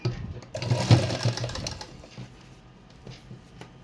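A sewing machine stitches beaded pearl lace onto the edge of a dupatta in a quick, rattling burst up close, then slows and fades into softer, sparse clicks.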